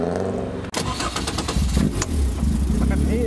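Toyota GT86 rolling past in a car park, its engine a low mid-pitched hum that swells briefly after a sharp knock near the start, close and steady for a few seconds.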